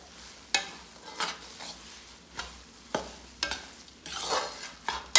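A ghee mixture stirred in a pan, with spaced, sharp scrapes and clinks of a spoon over a faint sizzle, close by and without talk.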